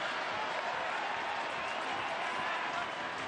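Stadium crowd at a Tampa Bay Rowdies vs. Louisville City FC USL Championship playoff soccer match, roaring steadily and loudly in the closing minutes, a dense unbroken wall of cheering with no pauses.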